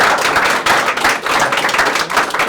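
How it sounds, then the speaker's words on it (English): Event audience applauding speakers, a dense, loud, continuous burst of clapping from a crowd, close and sustained throughout. "big round of applause for Dennis, Matt, the Hive crew."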